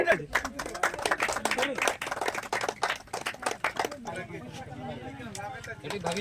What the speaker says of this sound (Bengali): সবাই একটু হাততালি দেবেন।